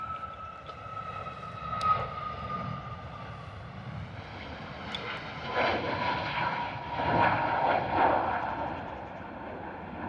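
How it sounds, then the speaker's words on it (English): A Ryanair airliner rotating on takeoff at London Stansted gives a steady, moderately distant jet roar that swells and surges twice, with no voices over it. "Ryanair rotating."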